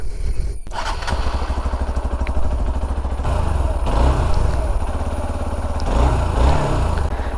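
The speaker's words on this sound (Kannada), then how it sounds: "ಇದರದ್ದೊಂದು ಎಕ್ಸಾಸ್ಟ್ ನೋಟ್ ಕೇಳಿಸ್ತೀನಿ" A new motorcycle idles nearby with a steady, throbbing exhaust rumble, its rapid pulses continuous throughout with slight swells.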